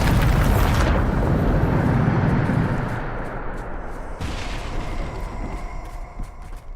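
A Bombarda blast spell in Hogwarts Legacy erupts as a loud, close explosion with a heavy rumbling boom that slowly fades. A second, lighter impact follows partway through, and no voices are heard.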